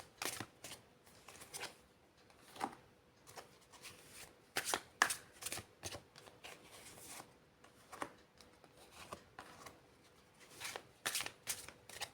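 Tarot cards being shuffled and drawn, bursts of riffling and flicking in uneven clusters with brief pauses, close and crisp, with no talking.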